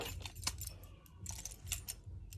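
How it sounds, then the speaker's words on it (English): A bunch of work keys jangles and clinks in several quick bursts, close up and fairly quiet, with brief pauses between shakes. "That's my dad's keys for his work."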